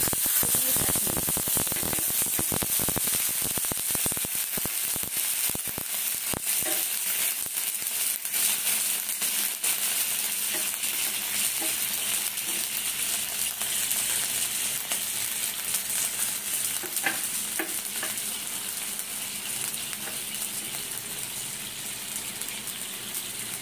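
Curry leaves hit hot oil for a dhokla tempering, giving a loud, steady frying hiss that spits and crackles sharply at first and settles into a constant sizzle.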